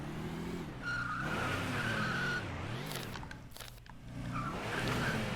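A car stolen and driven in Scarface: The World Is Yours skids with sustained tire squeals over a steady engine drone, the screech wavering and breaking off briefly before returning, loud and close.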